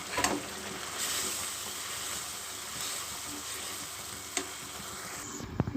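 Malai boti biryani cooks in a covered pot with a continuous hissing sizzle and soft bubbling, steady and close, broken by a couple of faint clicks near the end.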